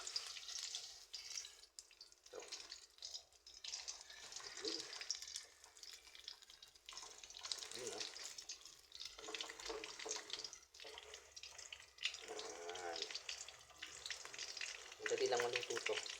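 Dried fish (daing) fries in oil with a steady crackling sizzle that rises and falls over several seconds, close up with occasional utensil clinks and no talking.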